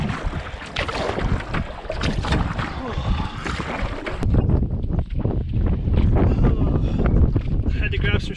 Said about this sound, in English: And the wind changes again on me.